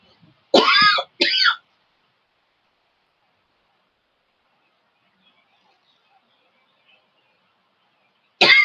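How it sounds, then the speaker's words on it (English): A man's dry cough from a sore throat, two short harsh bursts close to the microphone, then a long silence and a third cough at the end. "This is a dry cough from talking."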